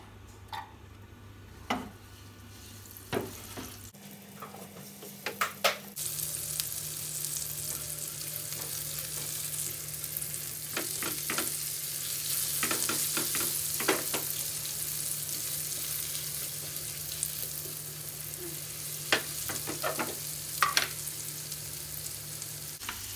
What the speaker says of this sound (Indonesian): lalu ditumis bawang putih, cabai sampai harum dan matang